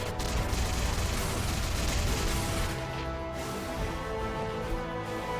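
Turrets firing in the StarBreak video game, a dense, continuous barrage of overlapping blasts and rumbling explosions that stays loud throughout.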